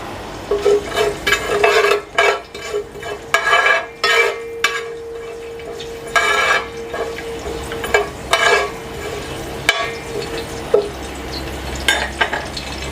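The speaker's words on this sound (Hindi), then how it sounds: "थोड़ा इसको गर्म करूँगा मैं। तो अभी इसमें मैं डालूँगा कलौंजी, मेथी दाना और राई।" Nigella, fenugreek and mustard seeds frying in hot oil in a pan, with bursts of crackling sizzle, stirring scrapes and clinks of utensils against the pot, close and fairly loud, no talking.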